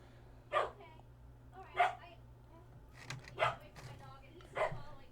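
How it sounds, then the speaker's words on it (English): A dog indoors barks four times in slow, separated bursts, moderately loud and a little distant, over a low steady hum. "Dog always barks."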